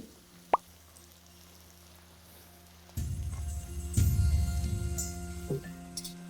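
Boiled noodles dropped directly into a hot pan with vegetables, a sudden burst of frying sizzle and clatter after a quiet stretch with a single drip-like plop, close and moderately loud, no talking.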